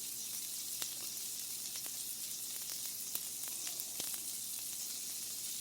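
Homemade chicken balls made from fresh ground chicken frying in a cast iron skillet, giving a steady close sizzle with scattered sharp pops and spatters throughout.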